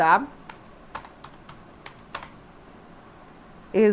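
Keys tapped one by one on a computer keyboard while entering HTML paragraph text, sparse irregular clicks, with a voice briefly speaking at the start and end.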